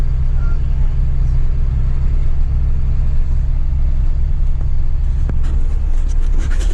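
A tractor engine runs steadily while pulling a hay rake, a loud continuous low rumble throughout with a few brief clanks near the end.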